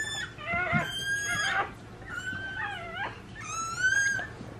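A newborn puppy gives thin, high whimpers and whines in several rising, wavering cries during a home birth of a litter of four or five. The sounds are close and fairly clear over a low background hum.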